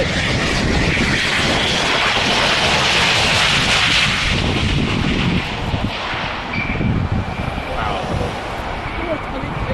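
A fixed-wing aircraft arrives over the end of the Southend Airport runway, a loud, close engine roar with rushing air that peaks early and then fades, with wind buffeting the microphone.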